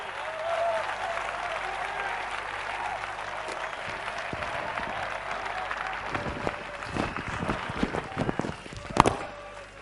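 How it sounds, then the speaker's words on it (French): Church congregation applauding after a sermon, a steady wash of clapping filling the room throughout, with a few sharper claps and shouts near the end. "Applaudissons fort."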